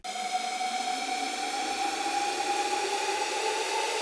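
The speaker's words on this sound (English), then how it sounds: "So lots of risers, some white noise, got that vocal hit down here." A steady wash of white noise with a tonal riser sweeping upward beneath it, continuous and loud throughout.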